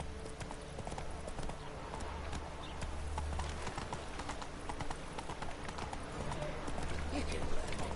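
Galloping hooves of a horse in the video game The Witcher 3: rapid, steady clip-clop rhythm close by over a low rumbling game soundscape, continuing throughout without a break.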